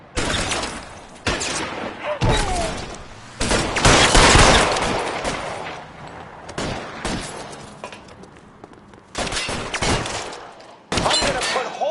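Gunfire in the L.A. Noire video game, a police shootout heard as loud, repeated bursts of shots separated by short pauses, with shouting voices mixed in.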